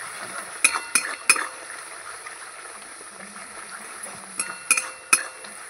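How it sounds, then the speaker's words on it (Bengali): Spice paste with dry chilli powder is stirred and fried in a metal kadai, a spoon clinking and scraping against the pan in short bursts over a faint low sizzle. "ভালো করে কষাবো মশলাটা"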